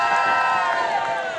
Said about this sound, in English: Big round of applause for Amy.